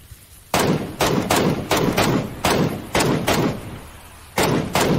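Repeated gunshots in the battle royale game PUBG, about eight loud, sharp broadband cracks firing in an uneven rhythm, each followed by a short decaying tail, with no talking.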